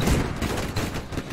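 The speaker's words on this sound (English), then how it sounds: "Oh, there's a chain guns. You have chain guns." Rapid gunfire from chain guns aboard airships in a game battle, a dense continuous rattle of overlapping shots filling the short moment at steady loudness.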